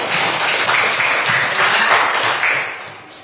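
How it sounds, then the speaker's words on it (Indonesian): Schoolchildren in a classroom clapping their hands together, a loud dense burst of applause that holds for about three seconds before tapering off. "Tepuk tangan."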